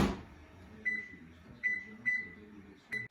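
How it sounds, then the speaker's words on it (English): A kitchen microwave oven runs with a steady low hum, broken by several short electronic beeps and a few soft clunks, with no talking. "Now, we're going to put it in the microwave"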